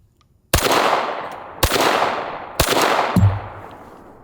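A Kriss Vector in .45 ACP fires three loud single shots at an even pace. Each crack is followed by a long echoing tail, and a light metallic clink sounds near the last shot.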